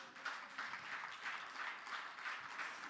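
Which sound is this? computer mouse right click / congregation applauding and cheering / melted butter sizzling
congregation applauding and cheering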